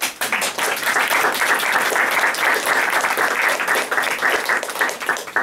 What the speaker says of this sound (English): Let's hear it for Larry